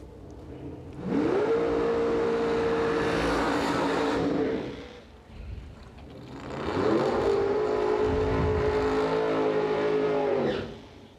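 Two drag racing launches in a 64-car shootout final between a door car and a dragster: each engine roars loudly at full throttle for several seconds, then cuts off, with a brief lull between the runs.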